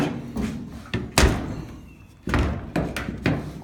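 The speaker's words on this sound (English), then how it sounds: "Close the door." A few solid thuds of a car door shutting, spaced a second or so apart, with faint rustling between them.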